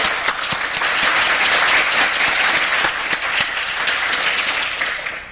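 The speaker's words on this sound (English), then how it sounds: "I think we all owe Elle a real round of applause for the fantastic job organizing." Audience at a talk about Julian Huxley at the Zoo giving a warm round of applause, loud, dense clapping from many people that holds steady throughout.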